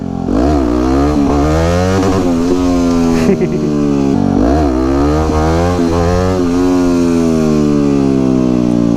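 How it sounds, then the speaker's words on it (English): A supermoto motorcycle engine revs hard and nearly nonstop during wheelies, its pitch rising and dipping through two long pulls, loud and close, with wind noise and no clear talking. "Especially when you can do wheelies into the sunset again."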